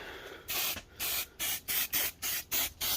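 Black Hammerite rust paint sprayed from an aerosol can onto a car wheel hub, heard as eight short, close hissing bursts in an even rhythm with brief silences between them.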